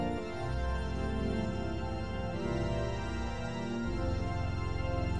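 Sustained organ chords open the song, with a full, steady harmonic tone that holds loud and continuous throughout, with no voices.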